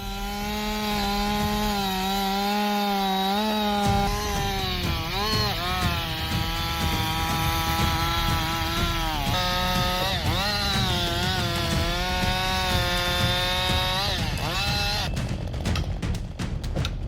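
A professional gas chainsaw runs steadily and loudly while logging in a forest in minus 15-degree weather, its engine pitch dipping repeatedly as the chain bites into wood, close up and continuous.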